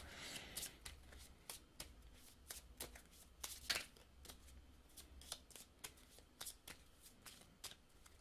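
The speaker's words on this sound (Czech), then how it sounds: "takže si zamíchám balíček" A deck of cards for the Comanchería board game is shuffled close by, a quiet series of crisp riffles and sharp card snaps in an uneven rhythm.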